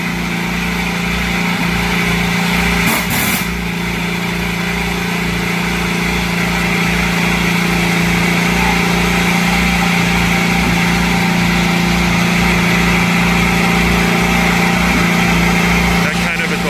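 An IndyCar engine idles at a track, a loud steady throbbing rumble with a fast even pulse and a high-pitched whine, close by and continuous throughout.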